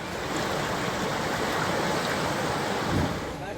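A steady, loud rush of turbulent water roars without a break, dense and continuous, a river swollen by heavy rain in flood.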